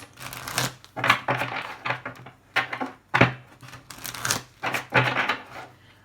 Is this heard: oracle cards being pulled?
yes